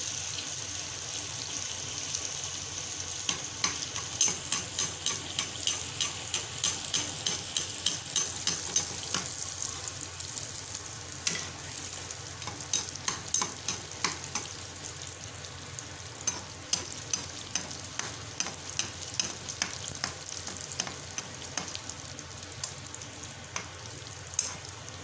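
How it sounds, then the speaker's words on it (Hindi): Bhatura dough sizzles and crackles in very hot ghee, a steady close frying hiss with bursts of bubbling pops and a few soft utensil taps, with no voices. "अब मैं इसको फ्राई करके दिखाती हूँ आपको।"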